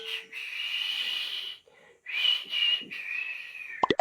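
A person tries to whistle but mostly pushes out breathy, airy blowing with a thin hissing tone, two long attempts separated by a short pause and ending in a couple of sharp clicks.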